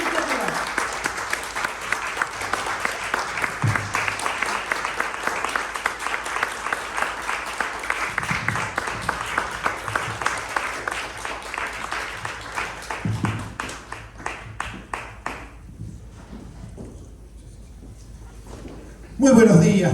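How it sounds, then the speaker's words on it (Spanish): A church audience gives loud, sustained applause to welcome the doctor taking the stage, with a voice heard over it; the clapping thins to scattered claps and then breaks off into quiet before a final burst of sound. "Recibamos con un fuerte aplauso al doctor Enrique Rulov."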